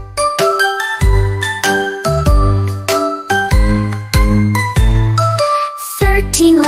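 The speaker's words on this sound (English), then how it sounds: "12 clanging bells, what a joyful sight." Twelve clanging bells in a children's counting song ring out in bright jingling, bell-like tones over a bouncy bass line, with strikes repeating rhythmically throughout.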